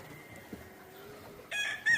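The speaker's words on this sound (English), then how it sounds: "This is some old sweater blood, old rooster and old hens." Gamefowl brood pens holding old Sweater bloodline hens and a rooster. A faint crow drifts in from a distance, then loud, close bursts of clucking and squawking break out near the end.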